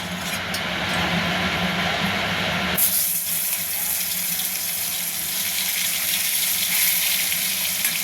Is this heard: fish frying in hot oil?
yes